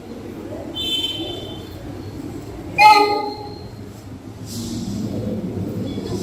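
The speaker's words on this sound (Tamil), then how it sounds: "ஒரு ப்ளூ கலர் டீசல் இன்ஜின் தான் இழுத்துட்டு வராங்க நம்ம ட்ரெயின் போகிஸ" Blue diesel locomotive hauling the 12639 Brindavan Express, rumbling past with a sharp horn blast in the middle and a brief high tone before it, rolling noise continuing after.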